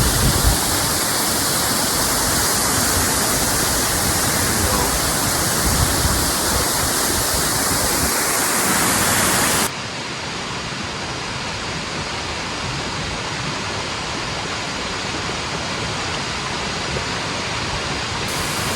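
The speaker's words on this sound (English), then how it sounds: "There's the falls." The steady roar of a waterfall in Scotland, broad rushing water noise filling the whole clip, slightly softer in the second half.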